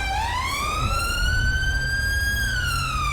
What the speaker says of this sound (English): Their siren appears to be stuck on.